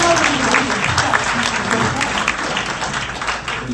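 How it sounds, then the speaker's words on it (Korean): A room full of people claps at a book talk concert for a former justice minister's novel, steady dense applause holding loud and close from start to finish, with some crowd noise mixed in. "왜 박수 한번 쳐주셔야 됩니다"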